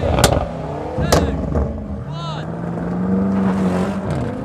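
A BMW M5 F90 and a Mercedes-AMG E63 S accelerate hard side by side in a rolling drag race, with loud engine roar and rising revs heard close from inside a car, while people talk over it.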